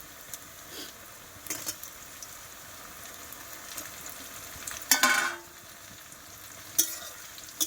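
Tomato frying with browned onions for a meat curry, a low steady sizzle with occasional stirring scrapes and a louder clatter near the middle, close by with no talk.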